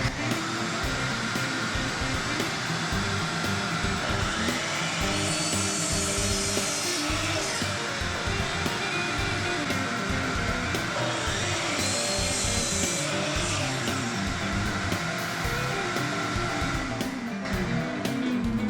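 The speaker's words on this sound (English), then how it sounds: "Turn on the old dust collection." A workshop dust collection system runs with a steady whooshing roar, joined by rough rubbing and sawing-like scraping from woodwork on pine porch railings, all fairly quiet and continuous with no speech.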